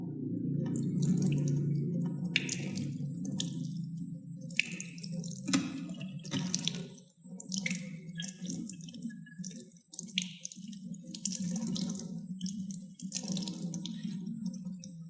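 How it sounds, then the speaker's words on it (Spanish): Water runs and drips steadily as dye-stained wool strands are rinsed, with irregular splashing and dripping bursts over a continuous low wash, fairly close and moderately loud throughout. "Entonces vamos a empezar a lavar."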